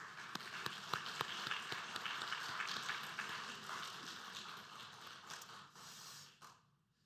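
A church congregation applauds in blessing and encouragement for their pastor during a Sunday service, a sustained burst of many hands clapping that fades toward the end.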